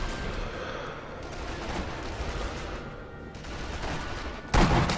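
Rapid bursts of gunfire in Sniper Elite V2 rattle continuously, dense and loud, with a sharper blast near the end.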